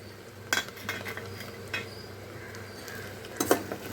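Soft scraping and clinking of a utensil stirring chopped carrots in a pan, with faint sizzling underneath; quiet, intermittent strokes.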